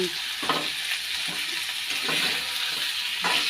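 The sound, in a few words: meat sizzling while being sautéed in oil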